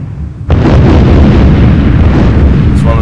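A rocket strike blows up a dock crane in the EF2000 Eurofighter Typhoon flight sim, a loud, sudden explosion that hits after a short quieter lead-in and then roars on as a sustained, wide, rumbling blast.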